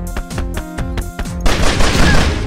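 Emojis exploding in a video game: choppy rhythmic game sounds give way to a loud, dense burst of crackling blasts, close and sustained.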